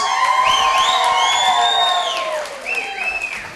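Wedding guests at Zukas Hilltop in Spencer, Massachusetts, cheering and whooping together, with high shrill whistles and shouts rising over a loud crowd roar that fades slightly toward the end.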